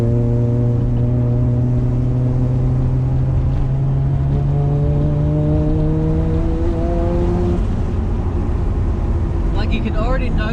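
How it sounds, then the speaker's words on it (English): A 550hp Nissan Skyline R33 with a turbocharged RB25DET engine pulls on wet, leaf-strewn roads, a loud steady drone rising in pitch under boost, then a brief flutter as revs drop near the end, with someone talking over it. "We'll hit some boost here and there. We'll listen to that nice turbo flutter as well"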